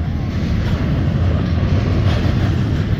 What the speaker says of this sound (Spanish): Por eso es muy importante tener cuidado en los cruces de los trenes.